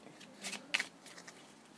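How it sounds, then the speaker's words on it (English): Two packs of trading cards riffled together by hand, a quiet papery flutter in a few short bursts, the loudest near the middle, with no talking. "you're going to shuffle your two packs together"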